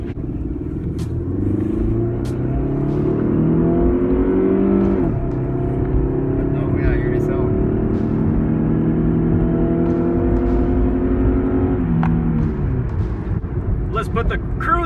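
A Chrysler PT Cruiser driving, its engine a steady loud rumble with gear-like rises and falls in pitch, heard from inside the car throughout.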